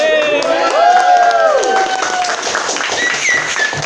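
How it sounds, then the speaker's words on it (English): A live audience claps and cheers loudly from start to finish, while a bright tonal melody sweeps up and down above the crowd noise. "And the whole crowd went wild."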